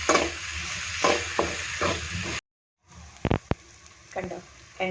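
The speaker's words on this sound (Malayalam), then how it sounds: "ഇനി ഇതൊന്ന് നന്നായിട്ട് വഴറ്റിയെടുക്കണേ എണ്ണ നന്നായിട്ട് തെളിഞ്ഞ് വരുന്നോടും വരെ ഒന്ന് വഴറ്റിയെടുക്കണം" Beef vindaloo masala sautés in oil in a Kochi-style kitchen, a soft steady sizzle with several scraping stirs, broken by a brief silence and then sharper knocks of the spoon against the pan.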